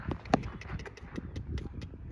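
Horse hooves clip-clop in a quick, uneven rhythm during a horse training session, fairly close, with one sharper hoof strike standing out. Faint background voices and outdoor noise sit beneath the steps.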